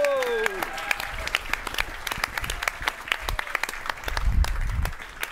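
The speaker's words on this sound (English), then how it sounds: "let's give a warm Entourage round of applause for Mr. Robbie Turner." Audience applause breaks out at a business event as a guest is welcomed on stage, a dense, steady patter of clapping that swells again near the end, with a few voices calling out over it.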